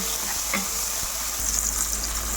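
Tomato pieces dropped into a pan of frying aromatics set off a steady, close sizzle, with a few soft stirring clicks over the hiss.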